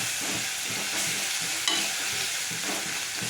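Ginger garlic paste is stirred into hot oil in a pan for drumstick soup, with a continuous loud, close sizzle and a steady scraping rhythm from the spoon and no talking.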